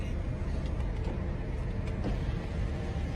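A car engine runs at a low steady idle, a constant muffled rumble with faint traffic-like noise around it and no clear talking.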